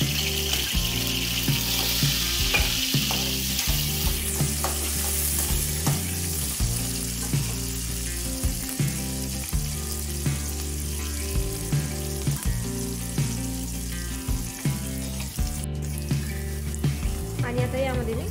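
Chopped onion frying in well-heated oil with cumin seeds for a green soybean chutney, a steady close hiss and crackle that carries on throughout, with faint pan-stirring clinks mixed in.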